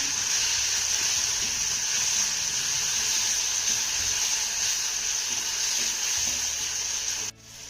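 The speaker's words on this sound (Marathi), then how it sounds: "यामध्ये आपल्याला एक बारीक चिरलेला टोमॅटो घालायचा आहे त्यानंतर हा टोमॅटो आपल्याला मौसूद होईपर्यंत छान असा परतून घ्यायचा आहे" Finely chopped tomato sautéing with onions in a hot pan, giving a continuous loud sizzle and hiss with faint stirring underneath, close up, cutting off abruptly near the end.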